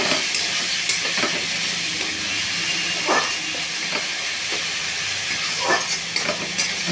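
Spice paste stir-fried in a pan for a jackfruit and prawn curry, a constant hissing sizzle broken by a few scraping stirs, close and fairly loud.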